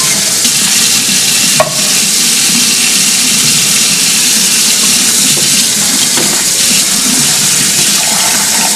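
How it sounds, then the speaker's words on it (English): Canned beans are rinsed in a strainer under a running tap at a kitchen sink. Water rushes loudly and steadily throughout, with a brief clatter near the start. "So we're just going to dump them in the strainer and rinse them off."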